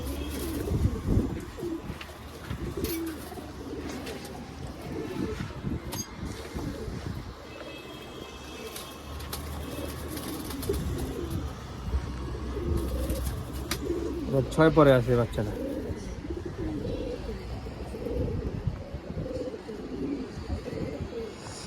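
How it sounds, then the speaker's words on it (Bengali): Pigeons, some black-necked and some cumin-necked, coo repeatedly in a low throbbing rhythm throughout, while someone talks intermittently over them nearby. "কিছু কালো গলা কবুতর কিছু জিরা গলা কবুতর"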